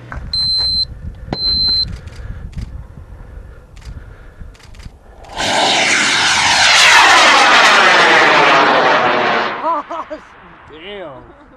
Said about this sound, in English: The rocket's going to take off using a K450 engine with a blast tube.